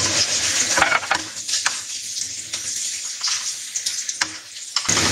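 Garlic frying in hot oil in a home kitchen pan, a steady close sizzle with a few clinking utensil knocks and stirring scrapes, no talking.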